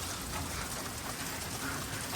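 Steady, dense hiss of heavy rain pouring down, continuous and even with no pauses and no talking.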